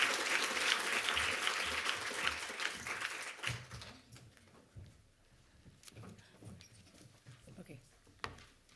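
A lecture audience bursts into loud, warm applause to welcome a speaker at an annual lecture. The clapping fills the first few seconds, then fades as a voice begins talking over a quieter room.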